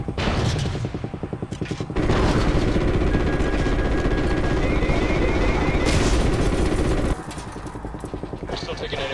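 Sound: anti-aircraft gunfire in Call of Duty video game

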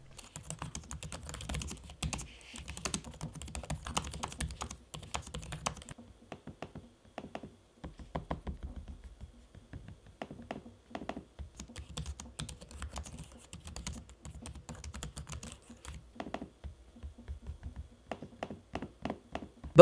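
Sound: typing on HP Spectre x360 laptop keyboard and trackpad

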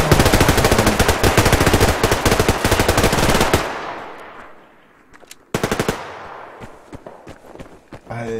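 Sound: gunfire in the video game Survarium

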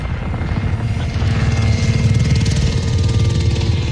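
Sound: helicopter in Modern Warfare video game

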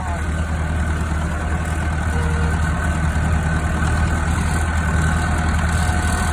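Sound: tractor engine idling

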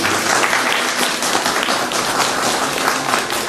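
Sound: applause at a railway station opening ceremony

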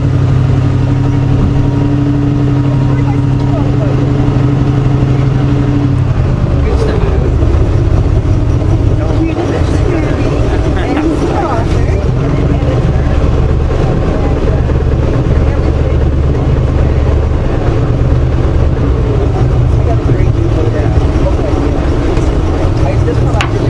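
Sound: motorboat engine

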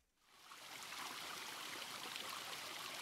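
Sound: soft running water in a video game

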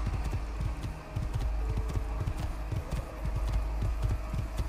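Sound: horse galloping in Assassin's Creed 2 video game

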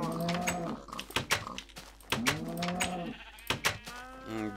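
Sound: cattle and sheep in Minecraft, video game

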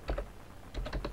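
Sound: typing the xwininfo command on a computer keyboard

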